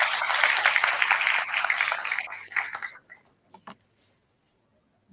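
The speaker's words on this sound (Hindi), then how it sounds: "तो तालियों के साथ मैडम का स्वागत" An indoor audience claps to welcome a guest on stage at a World Environment Day and Menstrual Hygiene Day event, a dense burst of applause that thins out and fades to silence after about three seconds.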